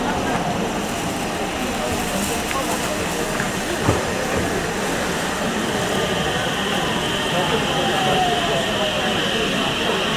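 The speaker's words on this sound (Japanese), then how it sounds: "まもなく列車が参ります。" A JR Iida Line train rumbles into Yuya-Onsen Station in autumn, a steady, fairly loud rolling drone with faint squeals and clanks, while platform announcements play over it.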